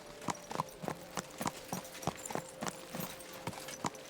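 Horse hooves clip-clop in a steady, even rhythm in the video game Kingdom Come: Deliverance 2, about a dozen distinct strikes at a walking pace, fairly faint and heard alone.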